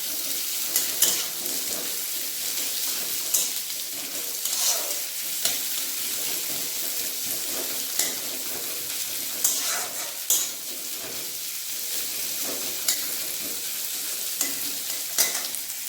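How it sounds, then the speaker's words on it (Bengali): Steady sizzling of chopped onions frying in hot oil, with occasional stirring scrapes and light clinks of a utensil against the pan, no voices. "পেঁয়াজ কুচিটা ভালোভাবে ভেজে নেব, তারপর তুলে নেব।"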